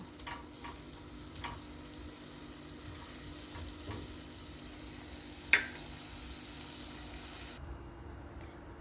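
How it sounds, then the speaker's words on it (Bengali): Onions frying gently in a pan until soft, a faint steady sizzle with a few soft stirring scrapes and one sharp click midway, quiet and continuous. "একটু নরম করে ভেজে নেব"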